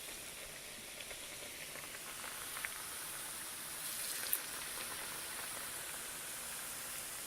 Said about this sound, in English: Just listen to that fry.